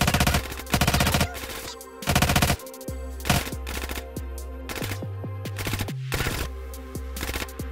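Rapid automatic gunfire in a Grand Theft Auto: San Andreas shootout, with loud repeated bursts of shots, each burst a fast rattling volley, and short breaks between them with lower engine-like drones underneath.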